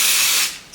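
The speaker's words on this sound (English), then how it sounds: "I like to use a little bit extra spray just to make sure" A short, loud hiss of adhesive spray from an aerosol can coats an embroidery topper, lasting about half a second before cutting off.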